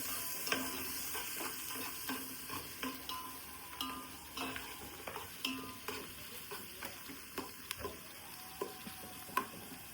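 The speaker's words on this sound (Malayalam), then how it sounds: "അണ്ടിപ്പരിപ്പും മുന്തിരി ഉള്ളിയും കൂടി സവോള നെയ്യിലങ്ങ് വഴറ്റിയെടുക്കും" Onions, cashews and raisins sautéed in ghee for biryani, with a steady sizzle under repeated close spoon scrapes and metal clinks against the pot, spaced unevenly, without any talk.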